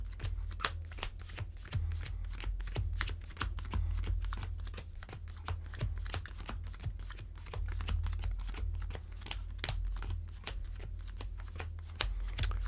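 Yu-Gi-Oh trading cards are shuffled steadily by hand, a rapid run of crisp, close riffling flicks repeating for about thirteen seconds over a low background hum, with no talking.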